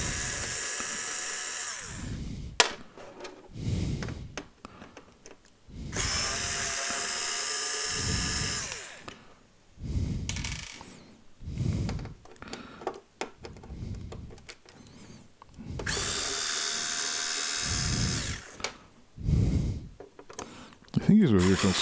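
Power drill backing screws out of a PC monitor mount in several whining bursts of varying length, close and fairly loud, alternating with stretches of talking.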